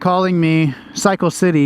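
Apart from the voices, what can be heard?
No distinct noise like a dog, phone or traffic.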